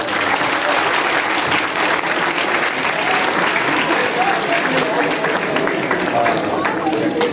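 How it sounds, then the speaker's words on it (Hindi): A university mushaira audience at an Urdu poetry recital breaks into sustained, dense applause, a steady roar of many hands clapping at once, loud and continuous throughout. "आप अपने लिए तालियां बजाइए"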